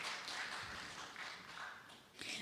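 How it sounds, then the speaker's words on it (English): Audience applause in a hall, a continuous wash of many hands clapping, steady and fairly distant, swelling slightly again at the end. "I like the applause"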